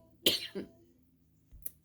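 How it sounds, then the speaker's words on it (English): A sharp cough followed by a second, softer one, then a brief quiet rasp a moment later, close and otherwise silent. "I had to pause it and I just start coughing."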